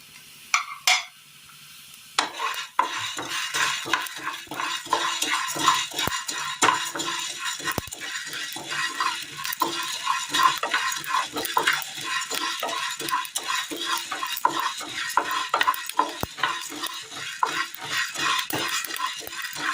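Green gram lentils roasting in a pan with cumin, stirred steadily with a spoon, giving continuous dry scraping and rattling scrapes over a soft background sizzle, close and moderately quiet.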